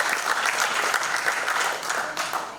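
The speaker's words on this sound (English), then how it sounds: "That's a round of applause," Audience applause at an event, a dense crackle of many hands clapping at moderate loudness that holds steady and then tapers slightly at the end.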